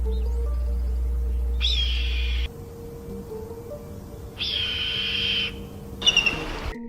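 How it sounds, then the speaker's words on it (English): An eagle gives three high, drawn-out screeching calls, each lasting about a second with short gaps between them. The calls are clear and close against a low steady hum. "Eagle."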